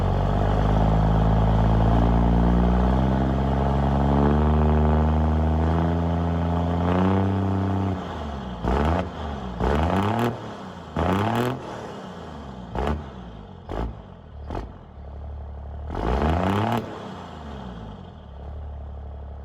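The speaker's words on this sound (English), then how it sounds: "Go ahead and give you guys some rev action." A heavy diesel engine with a straight-pipe exhaust idles with a deep rumble, then is revved hard several times in quick bursts, each rising and dropping back, loud and close.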